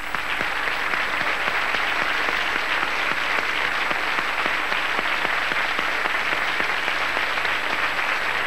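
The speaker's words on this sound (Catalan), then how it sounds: "que tenen també este aplaudiment" Studio audience applause on the Valencian TV game show Tria Tres, Canal 9: dense, steady clapping from a large crowd that holds at full strength throughout, with no pauses and no talking.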